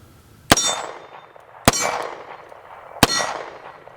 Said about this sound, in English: Let's get a first few shots down range.